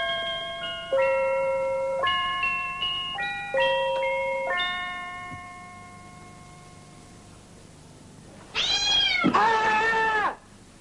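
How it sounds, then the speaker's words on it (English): A cat gives two loud, close, drawn-out meows near the end, after a sequence of stepped electronic tones like a doorbell or music box chime in a quiet room. "It was the cat."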